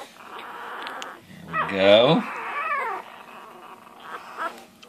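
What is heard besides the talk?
one-week-old female puppies whimpering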